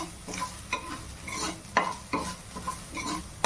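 Paneer bhurji is stirred and fried in a pan, with repeated scraping strokes of a spoon in an uneven rhythm over a gentle, steady sizzle, heard up close.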